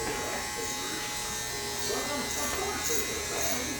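An electric hair clipper set to about a 1/16 guard buzzes steadily while fading a high and tight military haircut. The buzz is fairly faint and continuous, with people talking over it.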